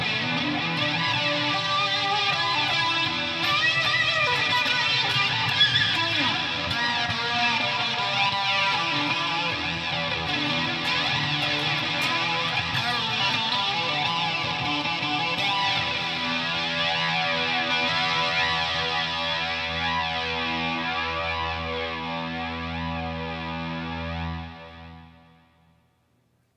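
An electric guitar runs through an echo effect with a distorted, chorus-tinged tone, ringing out in sustained, layered repeats for over twenty seconds before fading quickly to silence.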